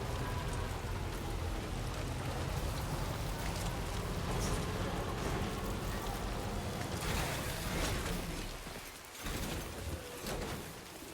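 Steady rain in Death Stranding 2 falls at night, a dense, continuous hiss of drops spread across the whole scene, easing slightly near the end with a few scattered louder patters.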